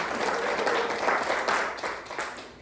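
An audience at a panel discussion claps for a woman commissioner, a dense, even roll of applause heard from a little distance, holding steady and easing slightly toward the end.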